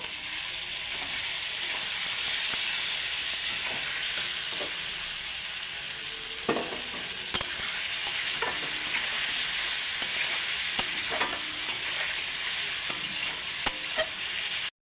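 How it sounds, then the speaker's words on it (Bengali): Chicken korma with potatoes frying in a pan while being stirred: a continuous close sizzle broken by repeated scraping and knocking strokes of the spoon, with no talk. "ভালো করে একটু কষে নেব।"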